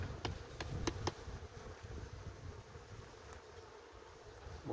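Faint, steady buzzing of honey bees from a colony badly infested with varroa mites, heard close up with a few sharp knocks and clicks early on.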